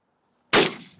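A single loud shotgun shot fired at pigeons, a sudden sharp blast out of silence followed by a quick decaying echo.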